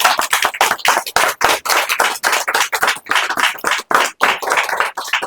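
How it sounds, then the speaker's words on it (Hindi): Hands clap together in a congregation welcoming guests at a Hindi religious gathering, loud and close, the clapping coming in quick uneven bursts with brief gaps between them. "ताली थोड़ा धीरे से बजाइए"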